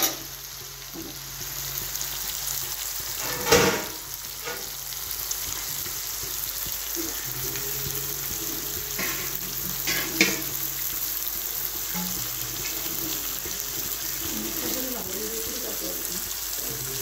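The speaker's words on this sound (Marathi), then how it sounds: "दोन दोन तीन तीन सेकंदाला थोडंसं पलटी करायचं म्हणजे ते दोन्ही बाजूने चांगलं भाजलं जातं।" Large eggplants roast in a dry pan with no water, turned every few seconds, giving a steady, moderate sizzle with occasional clinks and scrapes of the turning throughout.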